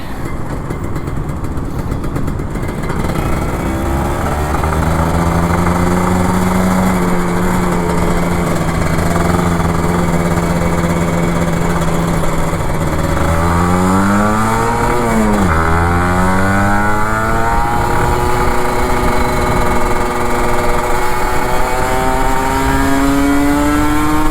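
An old Kawasaki Ninja RR 150 motorcycle engine drones loudly and steadily, then revs up and down with rising and falling pitch, with Jakarta traffic rumbling around it.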